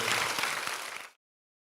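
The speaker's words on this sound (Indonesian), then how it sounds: "beri tepuk tangan yang meriah buat Tuhan" Congregation applause at a GSJS Jakarta church service, a brief burst of dense clapping with a few shouts that cuts off abruptly after about a second.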